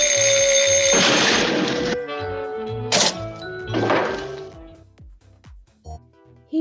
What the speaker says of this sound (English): He break the alarm clock.